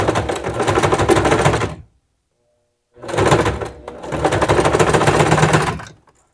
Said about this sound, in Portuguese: desço a agulha e vou costurar aqui bem rentinho